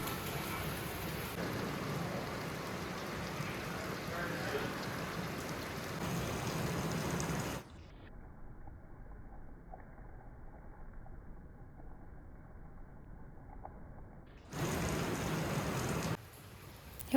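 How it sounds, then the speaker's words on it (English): Heavy monsoon rain pours down in a steady dense hiss, loud and close for most of the stretch, drops to a muffled low rumble in the middle, then returns at full strength. "Once we got back to his house, it was pouring again."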